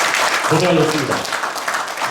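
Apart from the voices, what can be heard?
applause at end of a forum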